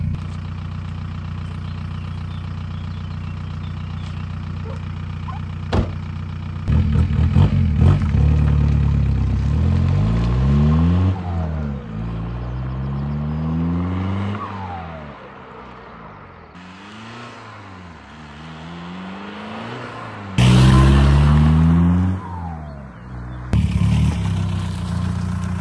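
Volkswagen Golf 4 1.9 TDI diesel engine idling steadily with a low clattery rumble, revving up and down several times in sweeping surges, loud and close with no talk.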